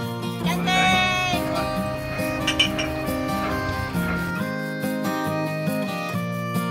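Glasses clink together in a toast, a few bright chiming knocks near the middle over a bed of soft music.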